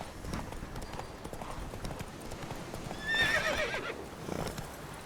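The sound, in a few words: horse Roach galloping in video game The Witcher 3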